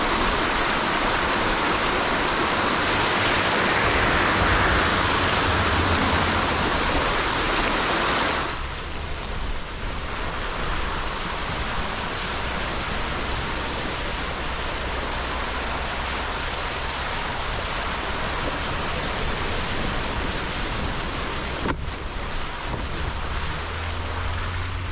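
Water flows at a forest trail water crossing in the Ouachita National Forest as a broad, steady rushing wash, louder at first and then softer after a sudden drop, with wind buffeting throughout.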